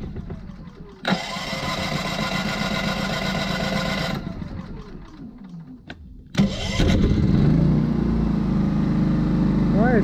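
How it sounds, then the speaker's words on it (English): A Champion 3400-watt dual fuel generator engine cranks loudly for several seconds, stops briefly, then catches with a sudden rise and settles into a steady, loud running roar. "try firing it up again and see if it'll fire the generator"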